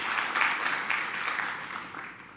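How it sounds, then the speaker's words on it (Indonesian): Congregation applause during a Christmas church service, a dense, steady wash of many hands clapping that gradually fades, with no one speaking over it. "Tepuk tangan dulu buat Tuhan Yesus."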